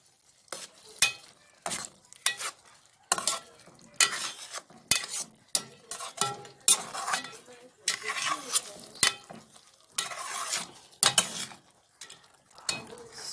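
Chopped onion stirred in a cooking pan, with repeated scraping strokes and sizzling bursts in an irregular rhythm, close and moderately loud, and no talk over it.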